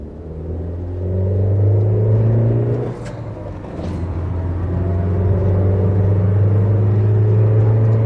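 An early Citroën Berlingo van engine pulling hard from inside the cabin, a loud boomy low drone that climbs steadily, briefly dips around a gear change, then builds again with a sustained rising hum.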